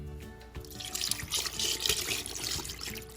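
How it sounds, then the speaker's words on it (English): Liquid sauce pours and splashes into a bowl while making a Vietnamese crispy dish, a short wet trickle with small glugs and drips, close by and fairly soft, with no voices. "now you dump the rest of the sauce in it"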